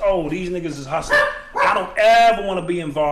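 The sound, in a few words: dog barking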